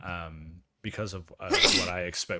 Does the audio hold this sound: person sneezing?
yes